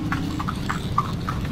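A horse pulling a carriage through Vigan clip-clops at a steady walking rhythm, four or five crisp hoof strikes close by over a constant low rumble of street and wheel noise, with no talking.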